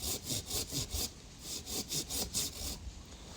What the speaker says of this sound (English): it's been a year I've been cutting with this handsaw